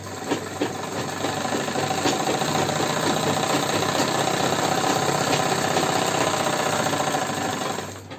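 Sewing machine stitching fabric for a Punjabi patiala salwar, a steady continuous mechanical chatter that runs nearly unbroken for the full length at close range, with no talking.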